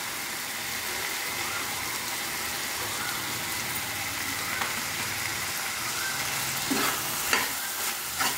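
Chili powder and coriander powder are stirred in a frying pan, producing a soft continuous sizzle with light scraping strokes that grow slightly louder toward the end.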